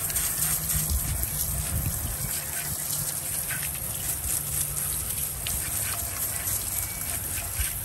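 McKee's Hydro Blue sprayed onto a car's paint during detailing, a continuous hissing gush of liquid spray with slight fluctuations, close and steady for several seconds with no talking.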